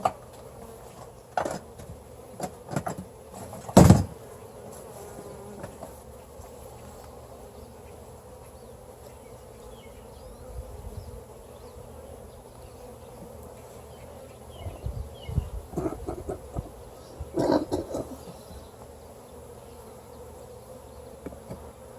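Honeybees buzz around an open hive during an inspection for queen cells, a continuous close drone. Occasional clunks of equipment and handling sound against it.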